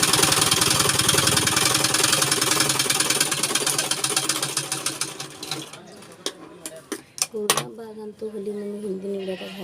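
Sewing machine stitching lace onto a blouse, a steady fast mechanical whir running loud for several seconds, then stopping and giving way to a few short clicks and knocks.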